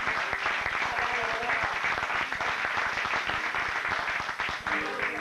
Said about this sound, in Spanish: le brinden un aplauso a mis dos guitarristas,